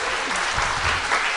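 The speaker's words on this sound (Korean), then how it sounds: "박수 부탁드립니다." An indoor lecture audience breaks into sustained applause, dense clapping at steady loudness for the whole stretch, with no voices over it.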